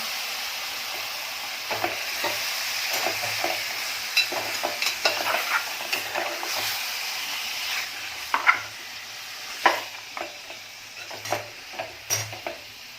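Marinated mutton sizzles in a pot under a constant frying hiss, with repeated scraping and clinking as it is stirred, the strokes growing sharper toward the end.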